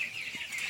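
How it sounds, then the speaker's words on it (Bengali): Chickens on a village poultry farm in the rain, a brief soft clucking call over a steady hiss of rainfall, no voices. "এখানে কত মুরগি"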